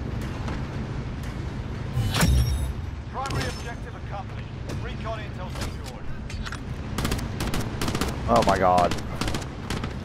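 Automatic gunfire in Call of Duty: Modern Warfare, a loud burst near the start and scattered shots later, with a player talking over the game sounds.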